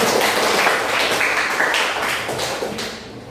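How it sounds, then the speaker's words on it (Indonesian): Students in a classroom clap their hands together in a dense, steady patter that fills the room, gradually thinning and quieting toward the end. "Kita tepuk tangan untuk materi."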